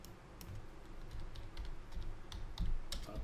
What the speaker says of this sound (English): I'm going to type in here crypto.